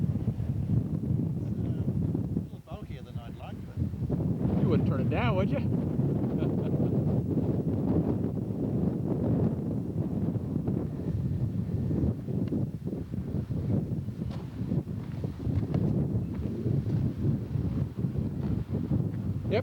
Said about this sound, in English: And the wind's really blowing out here.